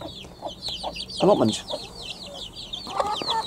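Backyard hens cluck softly among high peeping chicks on a suburban allotment, with several short clucks and a louder cackling burst near the middle and continuous faint chirps throughout, plus a brief voice.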